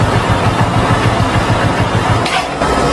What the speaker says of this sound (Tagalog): Mahirap siyang paandarin sa umaga during cold start.